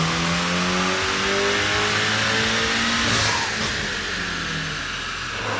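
A modified VW Golf R MK7.5 with an upgraded turbo and clutch, running ethanol fuel, revs hard on a dyno run, its engine drone climbing steadily in pitch, loud and close, with a turbo whoosh near the top and no talking.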